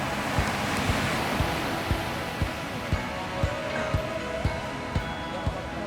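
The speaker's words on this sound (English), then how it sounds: "The waves are looking awesome today here in Quimixto" Ocean surf at Quimixto, Mexico makes a steady, loud wash of rushing water with faint regular thumps beneath it and possible voices mixed in.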